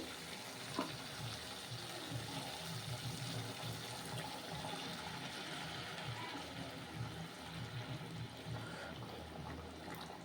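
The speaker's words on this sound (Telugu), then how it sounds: "ఇప్పుడు హాట్ వాటర్ పోద్దామండి. వేడి నీళ్ళు పోసుకుంటే బాగుంటుంది." Hot water pours into a simmering chicken curry, giving a steady, fairly soft rush of liquid over a bubbling gravy for several seconds.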